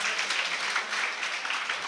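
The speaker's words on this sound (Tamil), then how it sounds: "மிகப்பெரிய ஒரு கரகோஷத்தை கொடுங்க" Applause from students at an academy achievers' event in Thoothukudi, a steady crowd of hands clapping in a soft, continuous patter, moderately quiet and unbroken, with no speech on top.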